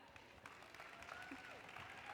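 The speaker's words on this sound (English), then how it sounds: "And a round of applause for Linda." An audience applauds as a speaker is introduced at a tech career talk, a faint, steady patter of clapping from across the room with a few brief background sounds, no clear speech.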